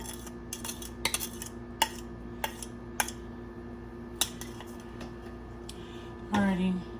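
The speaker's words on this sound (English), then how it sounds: "Okay, I'll get a spoon. I'm gonna get all of this out." A metal spoon scrapes and taps coconut out of a cup in a series of sharp, quick clinks, with a brief voice near the end.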